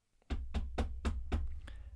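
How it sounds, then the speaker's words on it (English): A very loud run of about six sharp knocks on a flat's door, evenly spaced and close, ringing out alone with no voices. "there was a very loud knock at the door."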